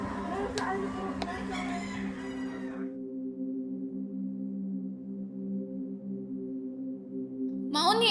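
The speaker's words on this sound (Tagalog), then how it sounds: "Mauni ang manok ilang paaway." Roosters at a cockfighting arena crow and call amid crowd noise for about three seconds, then a steady droning hum carries on underneath until a brief burst of noise at the end.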